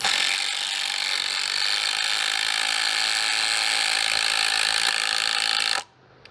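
Four impact drivers, a DeWalt, Bosch, Makita and Skil with T30 bits, run together in a loud continuous hammering whir for nearly six seconds, then cut off abruptly.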